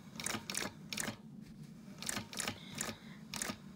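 Long-arm quilting machine basting a quilt, giving a series of short, fast mechanical stitching bursts in a steady rhythm, each burst separated by brief pauses, over a low constant motor hum.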